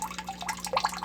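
Water trickles from an RO filter into a storage container, a short run of faint, irregular drips and splashes over a low steady hum.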